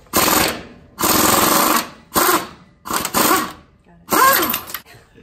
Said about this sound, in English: next we're gonna go ahead and remove the bolts on both sides of the upper control arms